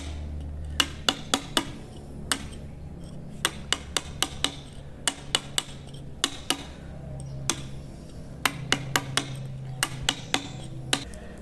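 A hammer strikes a pointer chisel against stone in short, sharp taps, clustered in quick irregular bursts with brief pauses, close and crisp over a low background hum.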